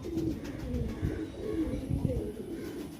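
Pigeons of a top-quality Andhra breed coo in low, rolling calls that repeat steadily over a dense, continuous murmur, fairly close and moderately loud.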